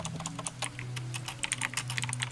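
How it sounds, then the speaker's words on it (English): Rapid, steady clatter of a computer keyboard being typed on, close and moderately loud, with keystrokes falling in quick irregular bursts over a faint hum. "What did your keyboard do to you?"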